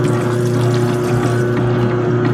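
Strong slime activator poured into a thick school glue base, a continuous close liquid pour with a low steady hum underneath, no talking.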